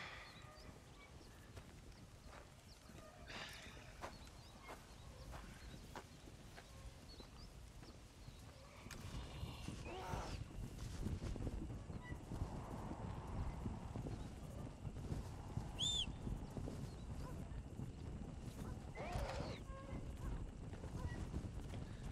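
Horse hooves clip-clopping steadily while riding in Red Dead Redemption: Undead Nightmare, a rhythmic trotting beat that grows louder partway through, with faint ambient sounds around it.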